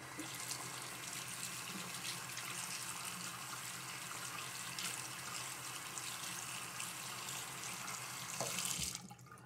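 A tap runs water onto a synthetic-fibre shaving brush, a steady broad rushing splash held for several seconds at close range, ending with a short burst and a brief change in the flow.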